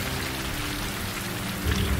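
Steady rain falling and pattering on surfaces, a dense continuous hiss with low rumble beneath, swelling slightly louder near the end.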